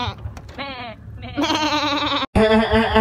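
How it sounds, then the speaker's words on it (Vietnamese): Several goats bleat while grazing outdoors, a run of loud, close, wavering cries that follow one another with a brief break near the end. "Dê đang ăn cỏ này."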